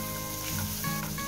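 Sofrito for a tricolor tart filling frying in a pan, a steady soft sizzle at low volume with faint stirring, no voices.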